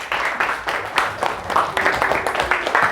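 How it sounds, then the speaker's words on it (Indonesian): Classroom applause for a student during a lesson on geometric sequences: a burst of many hands clapping, fairly loud and sustained for a few seconds, with a speaking voice partly mixed in. "beri aplaus dulu untuk Akram"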